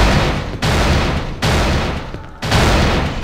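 Gunfire in the horror video game Cry of Fear, loud sustained blasts that cut off abruptly and restart three times, dense and close with no talk.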